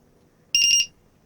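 Electronic beeping from a charger or battery monitor as a 12V battery pack is connected: a short, loud burst of about three rapid high-pitched beeps, close by, with no talk.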